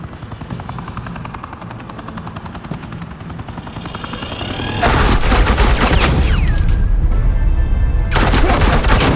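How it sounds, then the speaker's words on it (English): Suppressing gunfire in the video game Batman: The Enemy Within breaks out as loud, sustained automatic bursts over a whirring helicopter drone, starting midway after a quieter stretch of rotor noise. "Suppressing fire."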